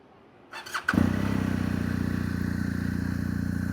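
A motorcycle engine is cranked with a couple of short bursts, then catches and settles into a steady, close, pulsing idle that runs to the end.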